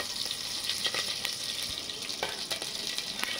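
Mustard seeds and curry leaves fry in hot oil, giving a close, continuous sizzle with scattered crackles and pops, with no talking.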